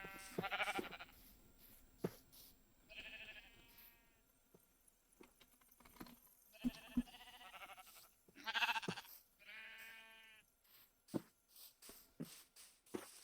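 Minecraft sheep bleat in short bursts, about half a dozen separate calls spread across a quiet game scene, with soft clicks in between and no talking.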